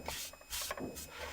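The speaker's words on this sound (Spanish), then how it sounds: "Podemos usar también solo la espuma abrasiva por este lado," Abrasive foam rubs against a plaster horse mold in short back-and-forth sanding strokes, soft and close, with a few quick scratchy passes and no talk.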